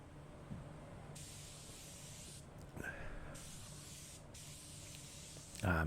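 A spray gun applies base coat paint to a car body being resprayed after heavy damage, a steady close hiss that cuts in and out in bursts over low background noise, with a louder clunk at the end.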